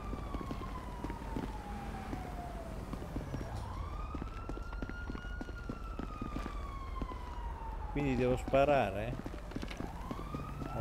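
Police siren in GTA 5 wails in long rising and falling sweeps at moderate distance, with game sounds and an Italian voice speaking briefly over it.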